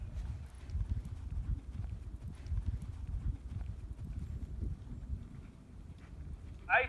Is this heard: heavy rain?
no